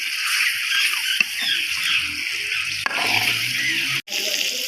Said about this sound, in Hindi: अब इसमें पानी डाल दें।